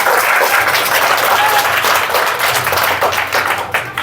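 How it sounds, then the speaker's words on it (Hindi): A crowd claps steadily and loudly at an outdoor village rally in Uttar Pradesh, a dense, sustained wash of applause that holds for several seconds before thinning slightly at the end. "तो एक बार तालियां चलो अपने संगठन के नाम पर बजा लो।"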